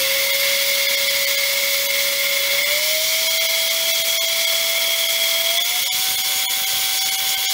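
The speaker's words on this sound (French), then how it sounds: "On nettoie ça à l'air." Compressed air hisses continuously while cleaning an iPad during repair, a loud steady blowing rush with a faint rising tonal whistle that holds for the whole stretch.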